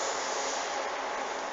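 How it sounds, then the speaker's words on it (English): A train passes in the background near an old mill, heard as a steady broadband rumble and hiss that stays even throughout, with no voices. "There's a train going past in the background."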